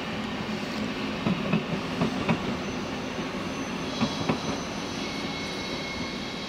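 A regional RE1 passenger train rolls past at a distance into a station in Frankfurt (Oder), steady rumble and hiss with a few faint clanks from the wheels, no voices.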